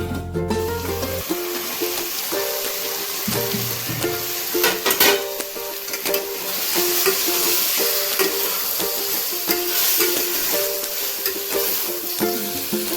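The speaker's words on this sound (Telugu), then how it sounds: "చికెన్ పీసు ఇంకొంచెం ఫ్రై కావాలి, ఇంకో 5 మినిట్స్ ఫ్రై కావాలి." Chicken pieces fry in a pan for palakura chicken curry, a loud steady sizzle with bursts of stirring and scraping throughout, no talk.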